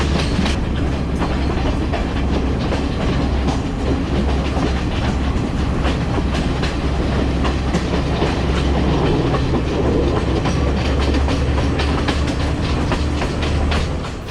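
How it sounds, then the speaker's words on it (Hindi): A passenger train runs along a mountainside, its steady loud rumble and rhythmic clickety-clack of wheels heard close and continuous throughout, with no talking. "ट्रेन ने पहाड़ों के किनारे पे चल रही है।"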